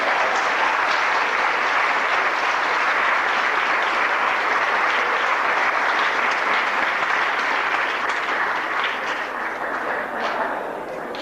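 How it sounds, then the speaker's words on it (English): An evening audience gives a steady round of applause, a dense, loud wash of clapping that holds throughout and eases slightly at the end. "Can you give a round of applause?"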